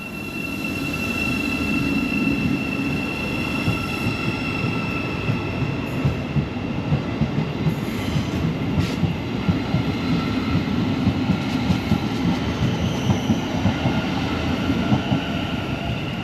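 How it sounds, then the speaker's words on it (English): A Class 717 train pulls out of Finsbury Park station, its steady rumbling roll and wheel clatter filling the whole stretch at close range, with faint high rail whine above and no voices. "that was our train that's just left Finsbury Park"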